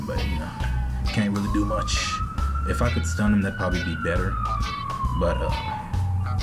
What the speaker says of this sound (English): sorry about that police sirens in the background